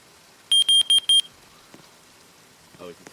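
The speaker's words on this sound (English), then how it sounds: "is he testing the smoke detector now?" Four quick, high-pitched electronic beeps from a smoke detector being tested inside a Roblox game, sharp and evenly spaced, followed by faint background noise and a brief soft sound.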